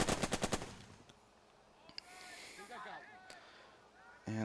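A machine gun in the wargame Burden of Command fires a rapid burst of about five sharp, loud shots at the start, followed by quieter game sounds and someone talking.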